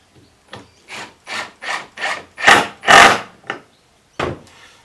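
Close ratcheting and creaking as a screw is driven into a wooden flat pack step stool, a run of about nine short rasping bursts that build up and then stop, with no talk.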